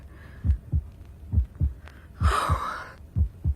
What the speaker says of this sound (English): how silly of me. My own heartbeat.